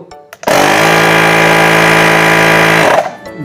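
A small portable electric tire inflator, a COSTAR, starts abruptly and runs with a loud, harsh buzzing drone for about two and a half seconds before switching off.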